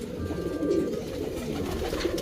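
A pet pigeon cooing softly in low, throaty murmurs over a constant background hum, with no talk.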